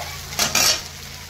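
Bhetki fish fat dropped into frying masala in a pan, giving a short clatter of utensil against metal and a brief hiss of sizzling, near and fairly loud, with no talking.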